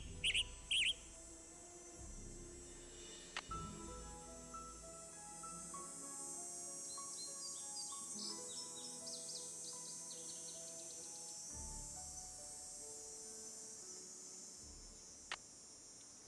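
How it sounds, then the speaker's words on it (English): A western tanager call plays in the Nancy Drew video game, heard as repeated chirps over a dense, steady bed of insect-like buzzing and ambient outdoor sound, lasting throughout. "Western tanager."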